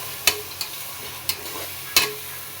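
Onions fry in oil until browned birista style, a soft sizzle broken by four sharp spoon scrapes against the pan at uneven intervals, close and with no voices.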